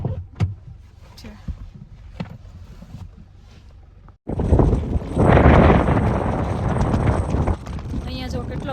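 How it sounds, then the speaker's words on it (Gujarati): Strong wind buffets the microphone at a tiny high-altitude Himalayan village, Hikkim, a loud continuous roar that bursts in halfway through after quieter rustling and faint voices. "અહીંયા જો કેટલો પવન આવે છે અમે ઉડી જાય એટલો પવન આવે છે"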